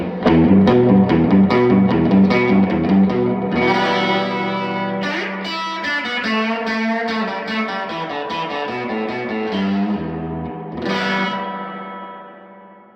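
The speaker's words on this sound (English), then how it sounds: "Sounds like spring reverb to me" Guitar played through a Fender Tone Master Princeton Reverb amp with its digital spring reverb, with strummed chords and picked notes that ring out and trail off in a drippy, splashy wash of reverb, with no talking.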